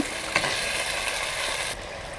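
Chopped tomato hitting fried onions in a clay pot over a wood fire, giving a steady close sizzle with light stirring scrapes that drops slightly near the end.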